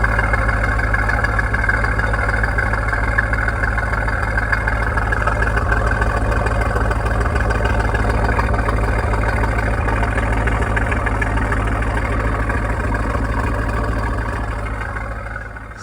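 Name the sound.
2003 Chevrolet Corvette Convertible engine idling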